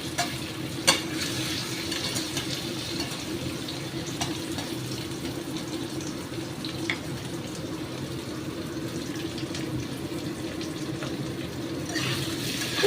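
Paneer frying and being stirred in a pan for a vegetarian dish, a steady sizzle with scraping stir strokes throughout, fairly close and with no talking.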